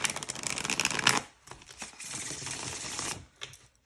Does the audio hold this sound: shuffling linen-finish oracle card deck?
yes